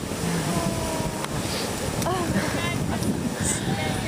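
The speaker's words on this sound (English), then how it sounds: "Waves can be very loud." Ocean waves and wind wash steadily around a boat at sea, a constant rushing roar with faint cries and chirps over it and talk mixed in.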